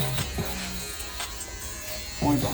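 FX3 electric shaver buzzing close against the skin during a burst fade haircut, a steady low hum under someone talking.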